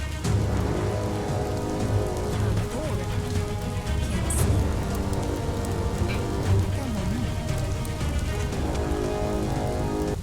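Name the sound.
rain falling, from a video game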